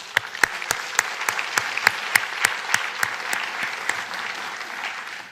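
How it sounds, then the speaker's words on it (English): Audience applause at a microbiome science conference: a steady wash of many hands clapping with sharp individual claps standing out, sustained at moderate loudness and tapering slightly toward the end. "So I really would like to give her a round of applause as well."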